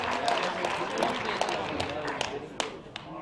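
Applause from the audience at a wildlife fundraiser auction, a dense crowd clapping that stays steady throughout, with an auctioneer's voice talking over it.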